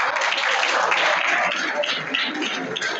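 Audience at SBS Inter College in Mathiya, Ambedkar Nagar gives a student steady, dense applause that stays loud and even for about three seconds with no voices over it.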